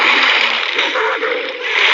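A creature in the Survivalcraft video game plunges into the sea with a loud, close, continuous splash and churning water that lasts the whole moment.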